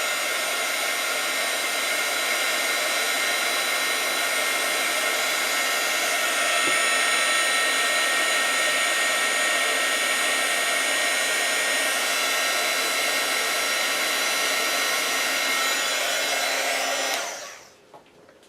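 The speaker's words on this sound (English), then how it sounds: "Gotta get out my embossing tool, my heat gun. Then let's get this heated up." An embossing heat gun blows continuously at close range, a steady loud whoosh that runs for most of the stretch before switching off and winding down at the end.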